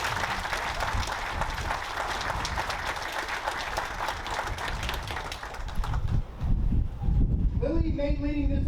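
Audience at a military change of command ceremony applauds the headquarters battalion troopers, dense outdoor clapping mixed with wind rumble on the microphone, fading toward the end as a voice and music come in.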